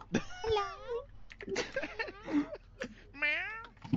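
A person imitates a cat in a French accent, letting out several drawn-out, wavering meows one after another, loud and close, with short gaps between them.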